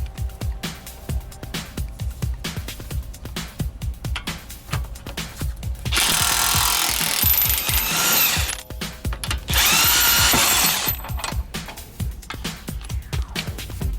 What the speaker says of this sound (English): we're going to go ahead and remove the lower arm to wheel knuckle bolt and position aside the wheel knuckle